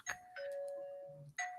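A doorbell chimes at a home door, with two tonal rings and a pause between them, clear and fairly close, in a quiet room.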